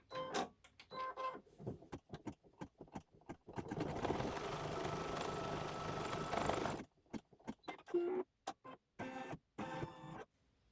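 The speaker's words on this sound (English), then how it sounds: "It's going to stitch the outside seam line now." Sewing machine stitching the outside seam line of a quilt block, a steady mechanical whir running for a few seconds between short taps, clicks and brief stops.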